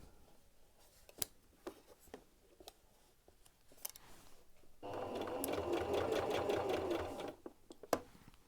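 A home sewing machine stitches a neck band onto a T-shirt in one steady burst of needle whirring for about two seconds, preceded and followed by quiet handling clicks and fabric rustles.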